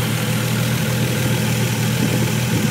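A warmed-up Toyota Supra engine idles steadily at close range, a constant low throbbing hum with faint vibration and no voices over it.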